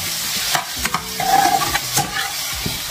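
Food sizzles and crackles in a hot pan while a utensil stirs and scrapes, with several clanks, close and fairly loud.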